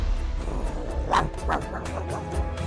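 A small dog gives several short yips and barks, with a whimpering edge, over a busy background.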